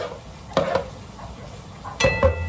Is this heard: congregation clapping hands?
no